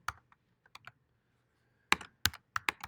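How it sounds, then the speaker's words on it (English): Computer keyboard being typed on, scattered key clicks early then a faster burst of several sharp, close keystrokes after a pause, with no talking. "I hate this keyboard."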